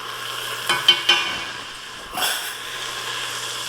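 Garlic sizzles in a pot for beef soup, a soft steady hiss under a few clanks of a spoon against the pot and a brief scraping stir, fairly quiet and close, with no talking.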